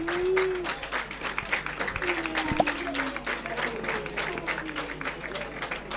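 Spectators applaud at an amateur rugby match between Saint Juéry and Canton d'Alban, a moderate outdoor clapping wash with a few shouts and nearby talk mixed in.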